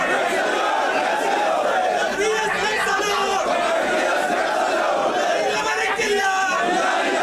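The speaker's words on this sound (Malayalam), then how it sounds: "അദ്ദേഹത്തിന്റെ ആവേശമായിരുന്ന ആൾക്കൂട്ടം ചുറ്റും നിന്ന് മുദ്രാവാക്യം വിളിക്കുന്നത്" A massive crowd surrounding an ambulance carrying a veteran political leader's body to the party headquarters chants slogans in unison, loud and continuous. Massed voices rise and fall in rhythmic shouts throughout.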